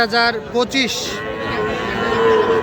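A young Friesian or crossbred calf lets out a few short, nasal moos close by at a cattle market, followed by a longer low bellow over murmuring background noise.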